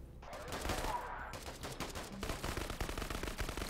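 Rapid gunfire in the video game Krankenheit, a steady stream of close, loud automatic shots with dense repeating bursts throughout.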